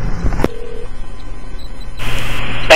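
A telephone is dialed at a wireless industry work site: a click, then short tones and a steady dial hum, loud and close, with no one speaking.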